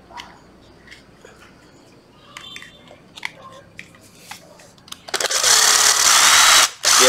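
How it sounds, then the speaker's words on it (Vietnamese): A Hitachi 12V cordless drill driver is handled with faint clicks and taps, then its motor kicks in with a loud, steady high whine, close up, briefly dropping before the end. "Có một cặp vừa khoan vừa bằng vít Hitachi 12V"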